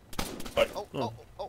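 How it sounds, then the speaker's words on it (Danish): Gunfire in the military shooter Arma 3 during a King of the Hill match, a few sharp shots crackling close, mixed with players talking over the game sound. "Der bliver skudt, mand."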